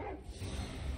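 A small dog barks and yips close by in a quiet room, short sharp bursts over a low rumble, with faint whimpering between them.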